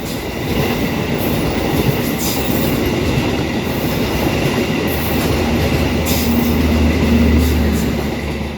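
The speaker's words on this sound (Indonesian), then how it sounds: "kita berpapasan dengan salah satu kereta New Gen" A passenger train rumbles past close by at Cikarang station, a steady loud roar of wheels on rails with faint rhythmic clatter throughout, no voices.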